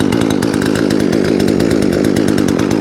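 A chainsaw engine runs loud and close, with a fast, steady, buzzing two-stroke rattle throughout and no talk over it.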